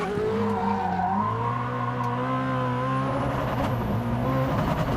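A Koenigsegg Jesko hypercar with a nine-speed gearbox accelerates hard, its engine note climbing and dropping through rapid gear changes in a loud, continuous roar with some tyre noise.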